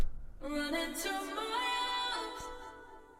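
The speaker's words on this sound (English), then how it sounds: "And so I added this convolution reverb." Vocal phrase soaked in convolution reverb, a sustained sung tone with a wide, washy tail that slowly fades out, fairly quiet.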